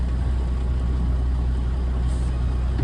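Low, steady engine rumble from a Kenworth K100E Aerodyne cabover truck pulling in first gear, a continuous droning loud close drone with no talk over it.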